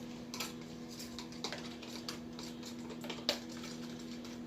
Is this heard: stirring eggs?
yes